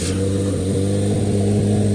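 A 2026 Corvette Z06 3LZ engine drones loud and close, a steady, deep rumbling rev with strong low harmonics held for a couple of seconds.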